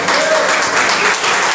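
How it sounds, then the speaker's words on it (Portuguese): A church congregation applauds during a worship service, a loud, dense burst of clapping with voices mixed in beneath it. "Pode aplaudir, que é para Ele, aleluia."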